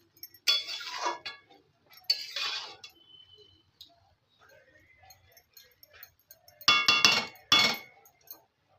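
A lid goes onto a pot of basanti pulao with a few clear clinks of metal and glass, two quick bursts at the start and two more near the end, with quieter handling sounds in between.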